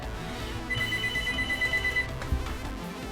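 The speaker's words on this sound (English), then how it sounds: "There we go. The phone stopped ringing." In the Citizens Unite video game a telephone trills for about a second and a half, a steady electronic ring set against dense game music and background sound.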